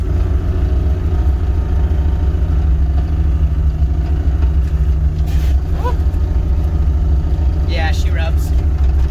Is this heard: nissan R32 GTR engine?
yes